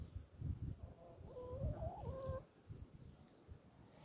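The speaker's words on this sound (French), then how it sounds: "les petites poulettes, le coq." Hens cluck softly near a rooster on a farm, with a short rising cackle in the middle over low rustling background noise.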